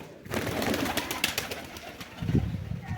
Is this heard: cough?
no